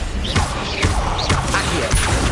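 An Incendio fire spell cast in Hogwarts Legacy bursts out as a dense, loud, roaring whoosh, holding steady for a couple of seconds with a few brief flaring swells inside it.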